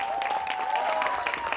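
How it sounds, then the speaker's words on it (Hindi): Audience applause for Varun Dhawan at the Border 2 teaser launch event, a dense, steady wash of clapping from a large crowd, with a faint tonal hum running beneath. "एक बार जोरदार तालियां वरुण के लिए।"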